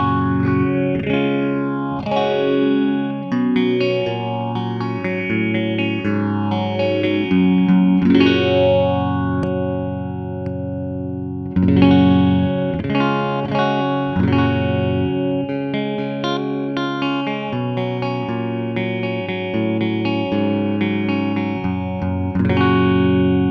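Electric guitar through an MXR phaser pedal in 4-stage mode, sustained chords with a slow sweeping swirl rising and falling, loud and alone, with a brief pause midway before playing resumes.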